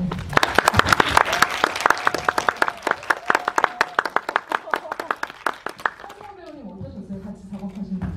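An audience at a film screening talk in an independent cinema gives a round of crisp, closely spaced hand claps that slowly thin out over several seconds, after which a voice begins speaking.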